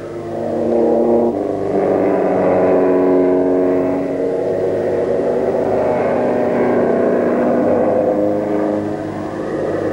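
The vintage Cognac Special racing car, driven by Freddie Giles at a 1975 Vintage Sports-Car Club meeting, roars loudly past with a sustained rising and falling engine drone and harmonic whine, no talk.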